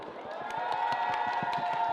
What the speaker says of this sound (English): So everyone can give me a big clap.